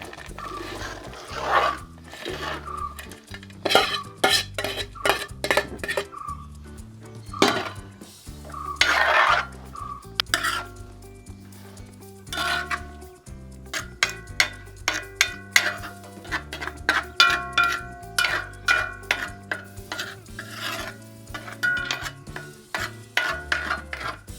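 A spoon or spatula stirring fried fish pieces into a thick spice masala in a metal pan for fish pickle, giving repeated scraping and clinking strokes in irregular bursts with a soft sizzle beneath, close and clear, no talking.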